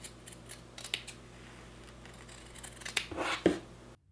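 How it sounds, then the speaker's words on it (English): Scissors snip excess denim from the edges of jeans, a few quiet, close cuts and rustles, sparse at first and clustering near the end. "I trimmed up the excess denim off of the edges"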